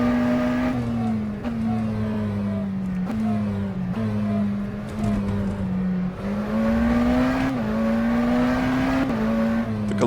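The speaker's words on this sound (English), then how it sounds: "that absolutely insane acceleration from about 100 to 200 kilometers an hour in this thing" A McLaren Senna GTR engine in rFactor 2 accelerates hard through repeated gear shifts, its loud, rising howl dropping briefly at each upshift before climbing again, close and steady with no talk.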